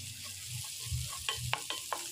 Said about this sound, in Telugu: నెక్స్ట్ దాంట్లో అల్లం వెల్లుల్లి పేస్ట్ వేయాలి